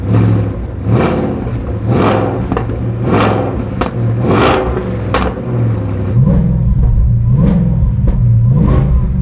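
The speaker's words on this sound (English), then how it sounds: "I love how deep and throaty this exhaust is" A Shelby Super Snake's engine revs repeatedly with a deep, throaty exhaust roar, rising and falling in pitch, loud and close, with sharp pops between revs.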